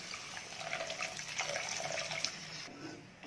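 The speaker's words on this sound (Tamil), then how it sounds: "குருமாவுக்கு தேவையான அளவுக்கு தண்ணி ஊற்றிக்கலாம்" Water pours and splashes continuously into a pan of kurma curry, running steadily before cutting off near the end.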